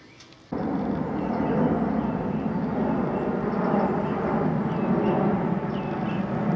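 A jet aircraft passes overhead on a countryside walk near Hever and Tonbridge, a loud, steady broadband roar that starts abruptly and holds with little change for several seconds, with no talking.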